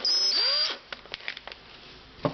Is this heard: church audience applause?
no